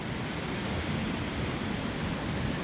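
Sea surf at a beach on Flores island: a steady broadband wash of waves, moderately faint and continuous, with some wind noise on the microphone and no talking.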